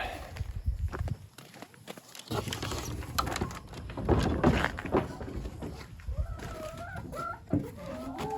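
Chickens cluck and call inside their coop, with scratchy movement and footsteps among them, a few louder squawks and crowing-like calls rising near the end, all fairly close and busy.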